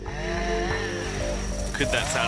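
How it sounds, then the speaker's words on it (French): A loud chainsaw engine droning continuously and close, its pitch wavering slightly as it revs, with a voice speaking underneath. "Est-ce le son de la tronçonneuse que l'on entend dans la vidéo"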